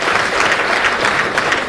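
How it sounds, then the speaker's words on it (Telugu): An audience at a domestic violence awareness meeting claps, a loud, dense burst of applause sustained throughout, with no voices standing out. "మనం అందరం మేడం కోసం ఒకసారి గట్టిగా క్లాప్ కొట్టాలి"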